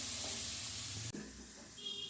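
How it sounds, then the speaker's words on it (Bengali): Eggplant slices frying in a pan, a steady close sizzle that cuts off abruptly midway, then continues at a softer, more broken level. "ওই জন্য এই যে বেগুন ভাজা করছে"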